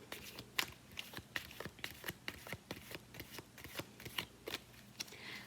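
Tarot cards riffle and snap as they are shuffled and drawn during a reading, a close run of quick papery slaps and flicks with no talk.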